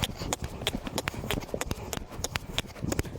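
Hoofbeats of a horse in extended trot, a quick, regular two-beat clip-clop, fairly close and steady throughout, with faint background noise and no talk.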